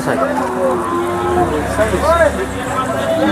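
A bull at a livestock market lets out a long, deep moo nearby, with muffled voices and background chatter around it.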